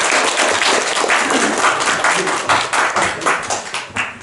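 A seminar audience gives a professor a warm round of applause, dense and steady clapping close by that carries on for the full few seconds.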